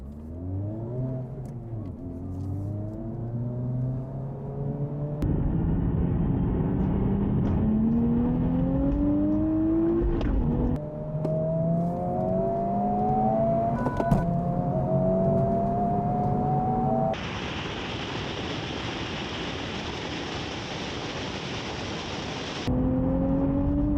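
A 2023 Honda Civic Type R, a Nissan Z and a Hyundai Elantra N drag racing from a standing start, engines revving hard and climbing through several gear changes, loud and close with continuous engine roar.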